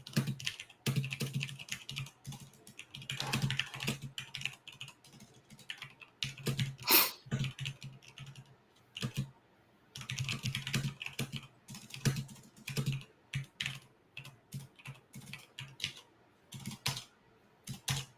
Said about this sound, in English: I'm typing them up as I'm getting them sent to me.